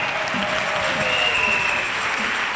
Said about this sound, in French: Acclamons pour Jésus-Christ.